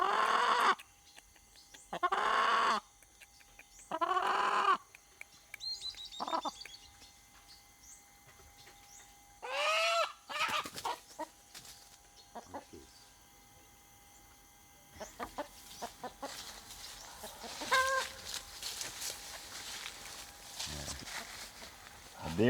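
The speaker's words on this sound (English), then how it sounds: "we were curious to meet his splendid rooster" A red rooster clucks and crows in short bursts close by, with a voice speaking between the calls and some rustling in the background.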